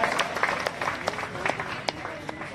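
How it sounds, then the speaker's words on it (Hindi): Clapping from the audience at a college farewell function welcoming a person, a loose scatter of claps with a few sharp individual hand strikes standing out, moderately loud in a roomy hall. "जोरदार तालियों के साथ इनका स्वागत किया जाए"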